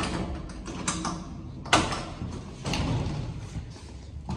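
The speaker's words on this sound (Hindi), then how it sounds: "जिम का दरवाजा खोल दिया मैंने" A gym door is opened with a mechanical sliding rattle and a sharp thud partway through, followed by scraping and shuffling, moderately close with no talk.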